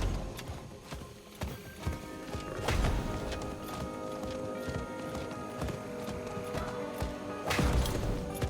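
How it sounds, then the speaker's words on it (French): Horse hooves clip-clop steadily in the Diablo 4 video game, a mid-distance rhythmic trot with a few heavier thuds, set against a continuous game soundtrack and ambience. "Ah, lui, un cheval."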